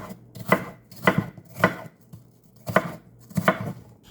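Apples chopped into small pieces with a knife on a board, five distinct, evenly spaced chops sounding close and clear with no talking.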